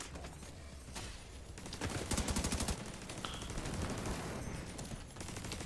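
Automatic gunfire in The Division 2, a dense burst of rapid shots cutting through a busy, noisy battle mix with ongoing combat sounds before and after.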